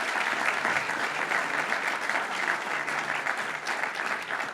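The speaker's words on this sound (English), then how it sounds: "Can we give our budgeteers a round of applause," An audience at a quantum campus announcement applauds budget legislators, a thick, continuous roar of many hands clapping that stays loud and even throughout, with no speech on top.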